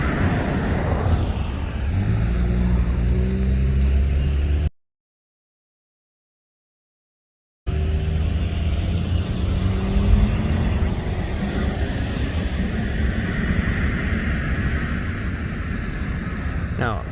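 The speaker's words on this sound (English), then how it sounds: "a lot of vehicles coming and going" Road traffic with vehicles coming and going near a prison: a steady, loud roadside rumble and hiss of passing cars and trucks, with a brief dropout in the middle.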